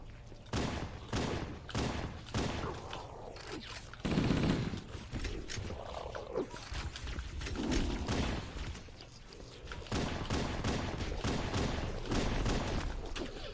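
Pistol and assault rifle gunfire in Halo: Combat Evolved, dense rapid bursts of loud shots and thuds that continue almost without pause through the whole stretch, with no talk.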